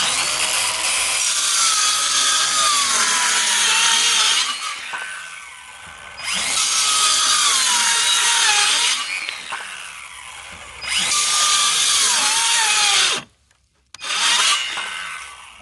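A HART 20V 6-1/2-inch circular saw rips through roughly half-inch plywood in three loud, sustained cutting passes of about four seconds each, the whining motor easing between cuts, with a brief silent gap and a short final burst.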